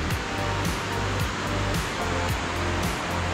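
Loud, steady roar of Cachoeira do Jarrão waterfall in Palhoça, Santa Catarina, Brazil, a dense continuous rush of falling water close by with no voices.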